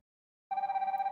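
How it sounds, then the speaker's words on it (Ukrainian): An incoming-call ringtone from an HK8 Pro Max Gen2 smartwatch starts after a half-second of silence, a steady electronic tone pulsing rapidly and evenly, fairly quiet and heard alone. "Ось так іде вхідний дзвінок."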